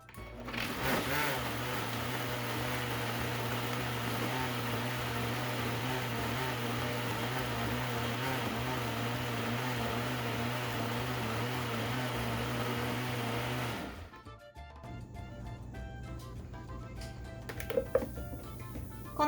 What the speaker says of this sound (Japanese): そしてお米とシナモンが細かくなるまでミキサーにかけていきます。